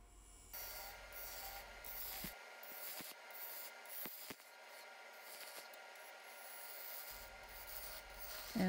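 Bowl gouge cutting a wooden bowl blank spinning on a lathe, a faint steady scraping rasp with a few brief sharp ticks and quiet gaps, low in level.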